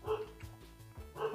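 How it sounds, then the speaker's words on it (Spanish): Dog barking in a video game, a few short repeated yaps with a rhythmic pattern under a continuous game soundtrack. "La perra está ladrando"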